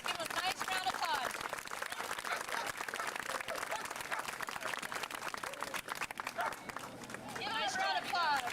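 An audience applauds steadily after a dog protection demonstration at a K9 academy. The clapping is sustained and moderately close, with voices and crowd murmur mixed in throughout.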